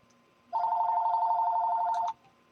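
A telephone rings once in a steady electronic trill lasting about a second and a half, clear and close against a quiet room.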